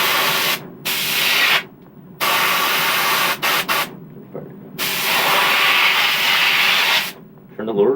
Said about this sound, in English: First we start out with a little Brinks gun and a yellow spray can bottle.